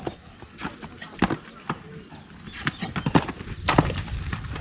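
A jumping horse moving about outdoors near a 4x4 truck recovery, with irregular hoof clops and thuds growing busier toward the end, while people talk nearby.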